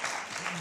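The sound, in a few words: audience applause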